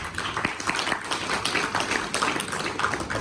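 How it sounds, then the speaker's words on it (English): Audience applause for pilots at an aviation talk with Captain Bijay Lama, a steady wash of many hands clapping that holds at moderate loudness for a few seconds with no voices over it. "So let's give a huge round of applause for yourselves, guys."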